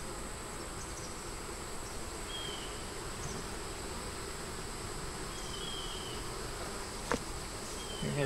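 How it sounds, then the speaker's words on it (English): Honey bees hum steadily around an open double-deep five-frame hive with brood and stores, a dense continuous buzz held close and even throughout, with a brief sharp knock near the end. "bees."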